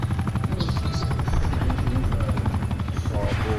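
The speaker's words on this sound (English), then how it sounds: "I just want a few kills with that chopper." A helicopter in Call of Duty: Black Ops 4 gameplay thumps with steady, loud rotor chop close overhead, its rhythmic beating continuous throughout.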